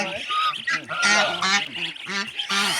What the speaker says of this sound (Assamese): আৰু এয়া হাঁহ, ৰাজহাঁহ